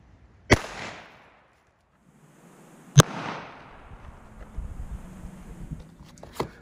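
A .380 pistol firing 75 grain full copper bullets at about 1,100 feet per second outdoors, two sharp, loud shots about two and a half seconds apart, each trailing a brief echo, with faint background noise between.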